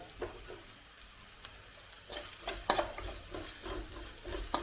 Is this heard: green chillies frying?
yes